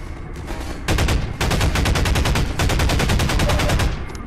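Rapid automatic weapon fire in Half-Life 2, a loud close burst of evenly spaced shots that pauses briefly, then continues in a long steady volley until the end.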